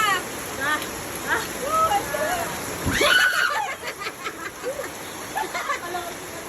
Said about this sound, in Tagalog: Tampisaw sa tubig.